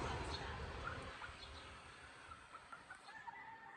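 Chickens cluck and call in a steady, close cluster with a few louder bursts, over a busy farmyard background.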